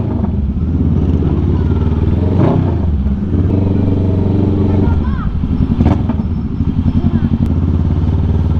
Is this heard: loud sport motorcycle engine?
yes